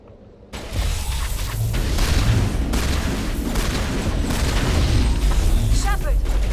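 A shotgun blasts during combat in the video game Mass Effect, heavy booming bursts over a dense, continuous roar of battle noise, with a voice speaking throughout.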